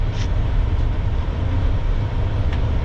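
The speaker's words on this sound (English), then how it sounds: "This train pulling in right here, I believe, is hauling coal" A coal-hauling freight train pulls in nearby, a heavy, continuous low rumble of rolling railcars with faint clicks of wheels on rail joints, steady and loud throughout with no talking.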